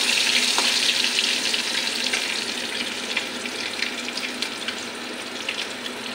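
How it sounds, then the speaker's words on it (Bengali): Potatoes fry in hot oil in a wok, a continuous close sizzle with bright crackling that eases slightly toward the end, and no voices. "এখন আলুটা আমি হালকাভাবে ভাজা করে নেব।"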